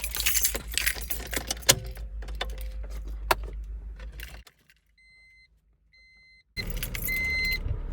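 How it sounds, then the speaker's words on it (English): Keys jangle against the ignition of a manual car, followed by a brief quiet with faint chimes and beeps before the engine starts and settles into a steady idle. "Let me turn on the car real quick and just actually give an actual example."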